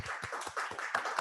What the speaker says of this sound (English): Laura, a round of applause.